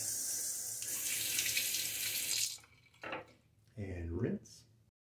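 Tap water runs steadily into a sink to rinse a double-edged safety razor, a loud continuous splash that stops partway before short bursts of flow return.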